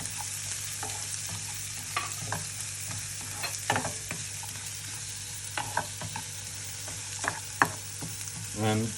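Mushroom stuffing of yellow pepper and tomatoes frying lightly in a pan, a steady soft sizzle broken by scattered scrapes and knocks of a spoon stirring, close and moderate in level, with no talking.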